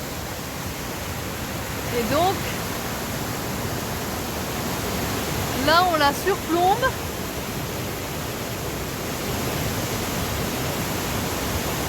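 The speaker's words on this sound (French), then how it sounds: "Tout en haut de la cascade" A waterfall seen from the top, a broad steady roar of falling water, with a person speaking briefly over it and a few faint bird-like chirps.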